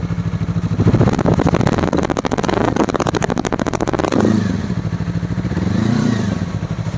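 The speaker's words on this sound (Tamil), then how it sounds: "பட் வண்டியோட எக்ஸாஸ்ட் நோட் வந்துட்டு செம்மையாக இருந்துச்சு." A 300cc Yamaha MT-03 motorcycle's exhaust rumbles loudly up close, revving up into a rapid, throaty burst, then settling back to a deep, steady idle with a brief swell.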